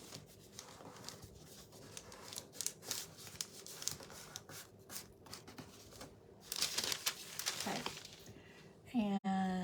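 Paper crinkles and scissors snip in short, irregular bursts close by, with soft handling noises and a brief voice at the end.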